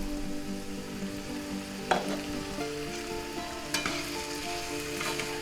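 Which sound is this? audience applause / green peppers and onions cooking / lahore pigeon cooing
green peppers and onions cooking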